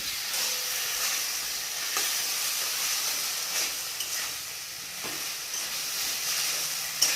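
A spoon turns rohu fish curry with potatoes and drumsticks in a pan, with soft sizzling and bubbling beneath occasional scraping clicks, fairly quiet and steady, no talk.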